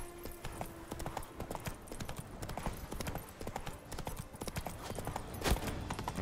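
Roach, the horse in The Witcher 3, clip-clops along at a steady trot, the hoofbeats close and regular over a busy game background, with one sharp louder knock near the end.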